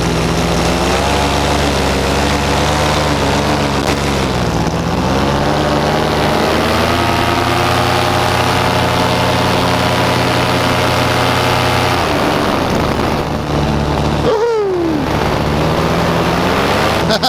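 A small aircraft engine drones steadily and loudly in flight, its pitch shifting slightly as power changes, with a brief whooshing gust near the end and no clear talk.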